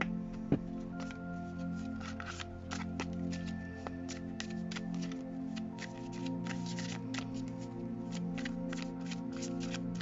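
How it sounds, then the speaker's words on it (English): Tarot cards being shuffled close up in a quick run of soft riffling flicks and taps over a low background hum, no one speaking. "Hold on while I shuffle the cards."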